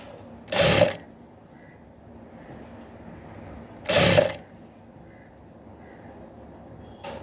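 Two short bursts of a sewing machine stitching the neck of a blouse, each under a second and a few seconds apart, close and fairly loud against quiet room background.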